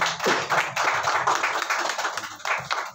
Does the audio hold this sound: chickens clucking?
no